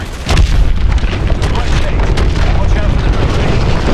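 Missiles slam into the hard points of a hydroelectric dam in a Call of Duty: Advanced Warfare battle, a loud sustained roar of booming blasts and rumble filling the whole stretch.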